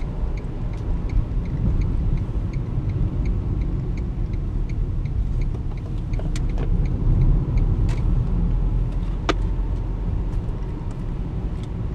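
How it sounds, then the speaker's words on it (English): Traffic jam at King's Hill with a broken-down car ahead: low engine rumble from idling and creeping vehicles, with a few faint high squeals and hisses like brakes, steady throughout and without talk. "Stuck in the traffic at King's Hill."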